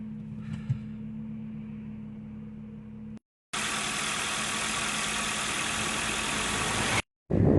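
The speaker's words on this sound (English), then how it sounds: "Car is started." A Ford Focus engine idles with a steady, even rumble after a jump start from a flat battery, broken by a couple of brief dropouts into silence.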